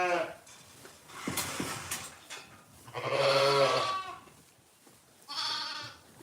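A pregnant ewe expecting twin lambs, in a lambing pen on a farm, bleats three times, loud and close, with quiet stretches between the calls.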